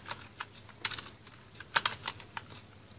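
Keys tapped on a computer keyboard, a quick uneven run of light clicks with short pauses, close but fairly quiet.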